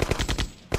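A turret in Command & Conquer fires a rapid burst of about five loud gunshots, a short pause, then one more shot.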